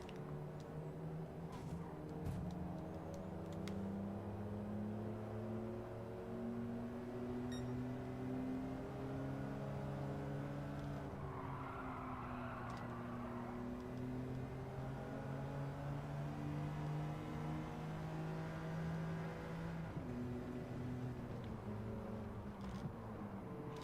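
A BMW Z4 3.0i engine drives steadily in Gran Turismo 7, its harmonic tone holding and shifting in pitch as revs rise and fall, with faint mechanical whine and clicks over roughly twenty-four seconds.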